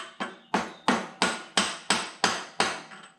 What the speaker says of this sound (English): Hit it with a kind of a socket wrench.